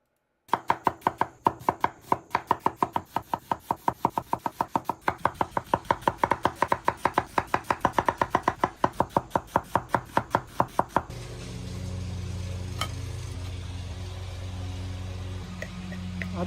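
Onions being chopped with a knife on a board, a fast, steady run of crisp, regular cuts for about ten seconds before giving way to a low background hum.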